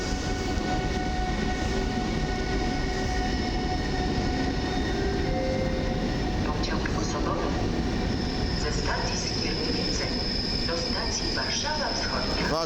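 An Intercity Mewa passenger train pulls away from a platform at Warszawa Zachodnia station during modernization work, a steady loud rumble of rolling wheels with faint squeals, and someone talks over it.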